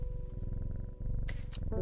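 In the video game Strange Horticulture, a cat purrs softly and continuously as it is petted, a low rhythmic rumble with a couple of brief chirpy sounds near the end.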